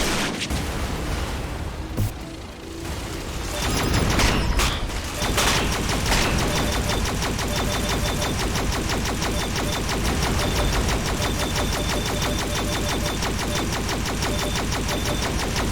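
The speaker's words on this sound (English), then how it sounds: "And he's shooting me" Dense, sustained automatic gunfire fills the scene as an enemy drone in a video game shoots at the player, loud and continuous with heavy booming impacts.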